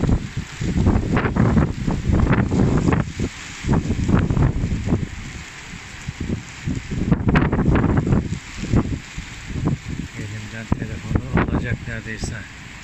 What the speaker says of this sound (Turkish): İnsanı uçuracak kadar rüzgar var.